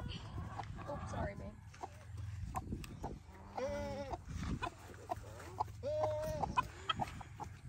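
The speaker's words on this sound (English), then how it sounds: "By the way, Rosie despises chickens." Chickens cluck and squawk nearby in short bursts, mixed with voices talking over a low background hum.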